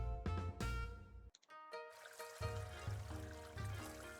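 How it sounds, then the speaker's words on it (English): Water pours onto a plant in the video game BaeBash, a bright, tonal, cartoonish trickle that runs in short bursts over a steady musical bed, with a brief near-silent gap partway through. "you can also drown the plant if you pour too much water on it"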